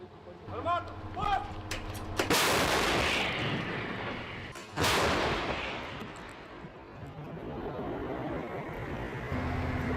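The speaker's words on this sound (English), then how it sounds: "A cable hangs at the end of the howitzer. They pull it to launch the shell." A towed howitzer fires artillery shells, with two huge, sudden blasts a couple of seconds apart, each followed by a long rumbling decay, preceded by brief voices and faint mechanical noise.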